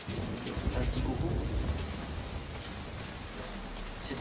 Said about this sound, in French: Cette pluie, regardez-moi cette pluie magnifique, on prend même des gouttes sur la caméra.